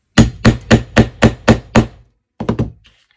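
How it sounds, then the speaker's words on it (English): A 16-ounce hammer strikes a grommet setting tool in a papercraft project: seven sharp, evenly spaced thunks ring out close by, then after a short pause three quicker, lighter taps follow, with no talking. "I'm going to give it about 6 or 7 whacks with a 16-ounce hammer"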